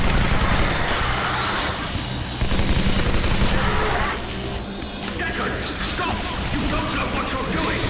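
Dense, continuous gunfire and explosions from the video game Legendary fill the whole stretch, loud and layered with crashes, with a voice talking over the noise.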